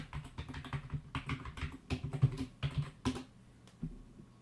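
Rapid, uneven keystrokes on a computer keyboard as a login ID and password are entered, a close, steady patter of clicks filling the short stretch with no talking.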